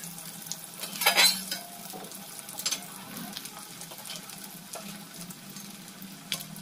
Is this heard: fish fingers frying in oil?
yes